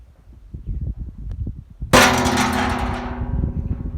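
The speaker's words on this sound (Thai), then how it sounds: "เสียงจากที่เราเคาะกันแล้วนะครับ" Soft, irregular knocks on a hot spring well lead into one loud metallic clang that rings out and slowly fades, close and sharp.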